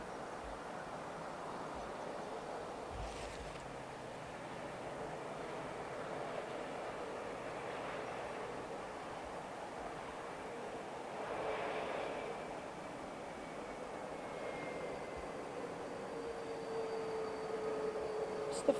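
An Airbus A320neo at Heathrow Airport is heard as a distant, broad jet roar that swells and fades softly over a steady rumbling background, with no voices.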